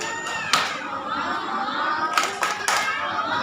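Hand claps from a church congregation at an HKBP Christmas Eve service, a few sharp separate bursts over a background of murmuring voices and chatter.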